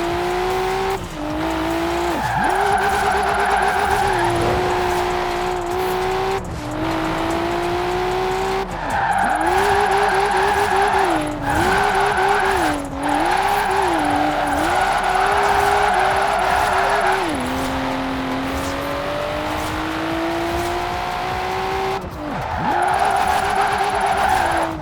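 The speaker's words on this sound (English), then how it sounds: "Now let's really shred those tires." A car drifts in Forza Horizon 4 with a sustained, wavering tire squeal over a loud engine, pitch bending through each slide, with brief gaps between runs.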